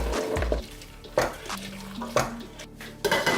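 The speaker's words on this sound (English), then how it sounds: "So in goes the spinach, peas, and the chickpeas." Spinach, peas and chickpeas tipped into a cooking pot for a vegan meal, giving a few soft clunks and scraping knocks of a utensil against the pot over a low steady hum, with no talking.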